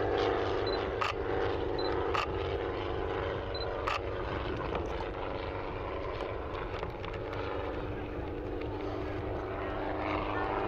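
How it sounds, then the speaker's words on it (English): Loud, continuous rotor thrum and engine roar from a doorless helicopter flying overhead at an air festival, close and unbroken, with a few faint clicks cutting through. "No doors on the side of the helicopter this afternoon."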